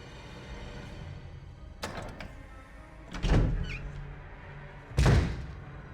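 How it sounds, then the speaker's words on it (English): A door opens in the Spencer Mansion of the Resident Evil video game, with a creak and then two heavy thuds spaced a couple of seconds apart, each sharp and fairly loud over a low ambient hum. "Maybe Chris is through this door."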